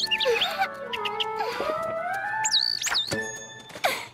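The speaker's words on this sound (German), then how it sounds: "Danke, Mr. Vogel. natürlich kann ich dir etwas zu futtern geben" A cartoon bird in a German-dubbed animated film chirps and squawks at a girl, begging for food with sliding whistles, warbles and sharp clucking calls, loud and close.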